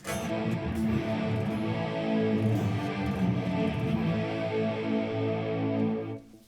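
Electric guitar played through a Yamaha FX500 effects unit set with modulation, reverb and delay, a steady sustained passage of chords ringing alone, then cut off near the end.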